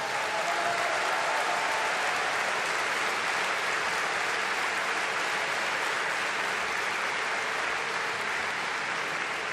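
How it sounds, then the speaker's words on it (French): Sustained, even applause from a large audience at a political rally in Paris Villepinte, a thick continuous roar of clapping hands filling the whole stretch with no voices above it. "Vous pouvez aussi les applaudir."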